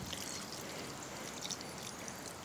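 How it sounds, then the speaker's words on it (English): Water from a measuring cup pours gently onto moist soil and humus in potted plants, a soft continuous trickle and splash, close and fairly quiet, with no talking. "I'm just gonna kind of water a little bit."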